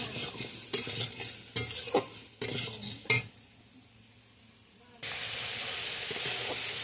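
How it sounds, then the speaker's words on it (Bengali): Soybean chunks and potato stir-fried in spices in a pan, with repeated scraping and clattering strokes of a spatula over a sizzle, then a louder, steady frying hiss once the stirring stops. "এবার সয়াবিন আর আলুটা দিয়ে দিলাম। সয়াবিন আলুটা ভালো করে কষাতে হবে।"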